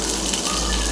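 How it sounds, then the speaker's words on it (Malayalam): Mustard seeds sizzle in hot coconut oil on an induction cooker, giving a brief, dense, steady crackling hiss close up. "ചൂടായതിനു ശേഷം കുറച്ച് കടുകിട്ട്."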